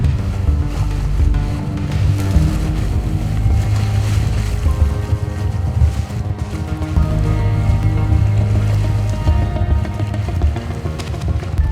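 A sailboat under sail makes a loud, continuous roar of wind mixed with rushing, sloshing water against the hull, rough and unbroken throughout with no voices.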